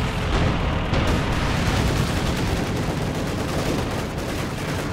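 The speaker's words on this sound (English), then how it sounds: "incendiary bombing run." An incendiary bombing run in the World War II strategy game Company of Heroes 2 produces a dense, continuous roar of explosions and fire that holds loud and unbroken throughout.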